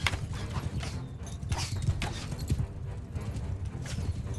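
Horse hooves clip-clop steadily in the Mount and Blade Bannerlord video game, a continuous trotting rhythm over a dense battle background with an occasional faint whinny.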